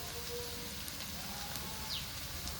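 Ginger-garlic paste fries with onions in a pan while making fish roe cutlets, producing a faint, steady crackling hiss like light rain, with no one speaking.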